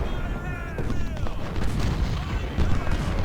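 Cannon and artillery fire on a Civil War battlefield in Ultimate General: Civil War, low booms rumbling continuously and layered beneath tonal game music, with no clear single shot standing apart.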